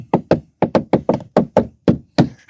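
Knuckles rap the hard plastic rear door panel of a Fiat Mobi Trekking, ten distinct hollow knocks in an uneven rhythm, close and loud with no talk.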